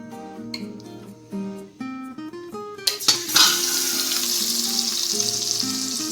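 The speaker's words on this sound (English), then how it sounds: "The chicken and fry it for 15 minutes." Chicken hits hot oil in a pan and starts a loud, continuous sizzle that fills the rest of the clip, following a few pan clinks over faint background music.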